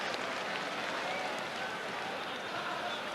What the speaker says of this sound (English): Alan Knight deservedly earning some applause.